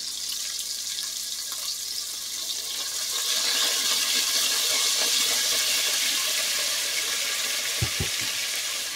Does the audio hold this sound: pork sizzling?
yes